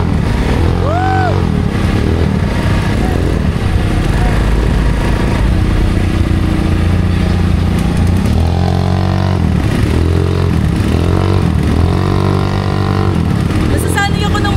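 A motorcycle engine drones close by during a ride, its steady growl swelling and easing with throttle changes, with a voice talking briefly over it near the start.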